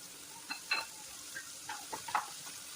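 Onions sautéing in oil with mustard seeds and chana dal in a pan, with soft sizzling and intermittent stirring scrapes, a few brief louder clinks spread across the stretch, fairly quiet overall.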